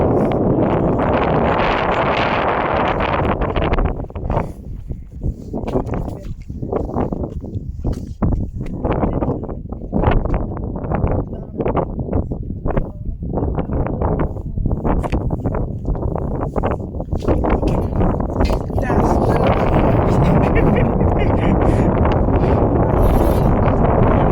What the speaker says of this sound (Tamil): இப்பதான் தெரியுது ஏதோ காத்தடி. என்ன காத்து சாமி.